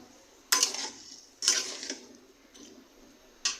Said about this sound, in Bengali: আলুটা দিয়ে দিলাম, এখন এগুলো ভালোভাবে একসাথে মিশিয়ে 6-7 মিনিট ভালোভাবে কষাবো